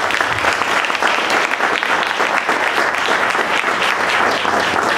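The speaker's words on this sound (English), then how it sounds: "Let's give them another round of applause." An audience at a tech leadership and management talk event applauds the speakers, a steady, dense wash of many hands clapping continuously and fairly loud, with faint voices beneath.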